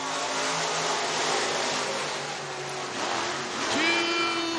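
Race cars at Boone Speedway accelerating together from a green-flag start, a loud continuous engine roar that swells and shifts, with an announcer talking over it.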